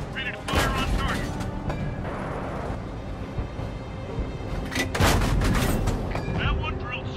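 Tank cannons firing in the World of Tanks game Flashpoint Berlin: two heavy booming blasts, one near the start and another around the middle, each followed by rumbling, over continuous battle noise and a voice speaking.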